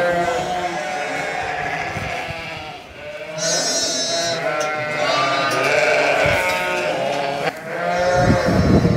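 Bleats from a ewe during lambing season, several calls rising and falling across the stretch over steady barn background noise, close and fairly loud.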